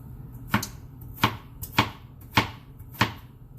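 Onions being chopped on a cutting board for a veggie frittata, five sharp, evenly spaced knife strikes close up, with no talking.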